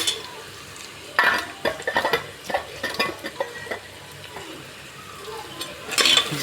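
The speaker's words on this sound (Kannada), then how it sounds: "ಶುಂಠಿ ಬೆಳ್ಳುಳ್ಳಿ ಈರುಳ್ಳಿ ಎಲ್ಲ ಚೆನ್ನಾಗಿ ಫ್ರೈ ಆಗಬೇಕು." Onion, ginger and garlic paste frying in a pan, with a soft sizzle under repeated scraping and clinking of a spoon stirring against the metal, in uneven bursts.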